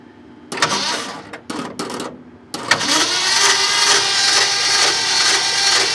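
Worn engine of a 1972 Ford Highboy truck cranking with its spark plugs removed: a few short clattering bursts, then a continuous, even churning from the starter, close and loud.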